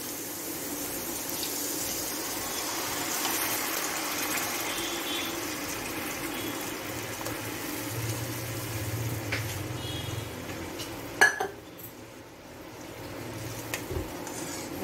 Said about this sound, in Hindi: अब इनमें पानी डाल देंगे।